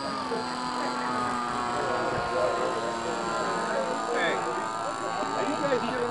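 An autogyro's engine drones steadily in the distance over Spring Hill, a constant buzzing hum that holds for several seconds, with faint voices talking outdoors.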